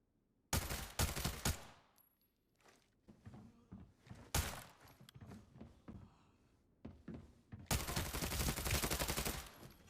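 Gunfire rings out while shooting at enemy players in the video game Arena Breakout. Sharp bursts of rapid shots are loud and close, with quieter gaps of shuffling and thuds between them.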